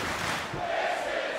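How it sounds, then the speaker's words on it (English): A raucous Buffalo wrestling crowd roars and cheers steadily throughout a match between two heavyweights, a dense wall of voices with no clear commentary on top. "The crowd rallying behind this battle between two behemoths."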